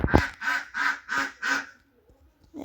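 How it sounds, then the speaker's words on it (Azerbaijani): Ducks quack in a run of five loud, evenly spaced calls close by, followed by a short pause and the start of another call. "Ördəklərin səsi məndən çox çıxır."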